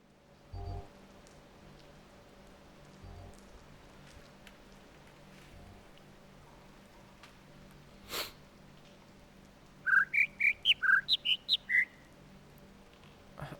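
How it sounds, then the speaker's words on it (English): Several bird chirps in the video game The Witness: a quick run of bright, rising calls at moderate volume, with a few isolated clicks and thumps before them over a quiet ambient background. "it says 2 birds chirping"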